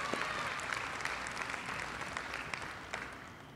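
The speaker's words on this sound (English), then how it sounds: "Please give him another round of applause for this accomplishment." Audience at a school signing day ceremony applauds for a student's academic achievement, a fairly distant, even wash of clapping that holds steady for a few seconds before easing off.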